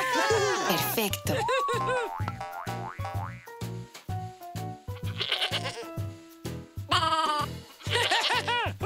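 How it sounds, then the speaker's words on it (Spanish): A farm toy plays a goat sound, with wavering bleats rising over springy children's music and returning in bursts across the lively tune. "Cabra."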